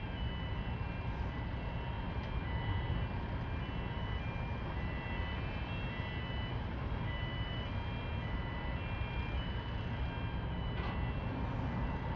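A service truck reversing, its backup beeper sounding as a steady tone over a continuous low engine and background rumble, with no talk.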